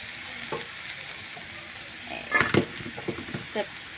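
Spice paste with Kashmiri chili powder fries in a pan, a continuous close sizzle broken by a few clattering stirs and scrapes in the second half, with no talking.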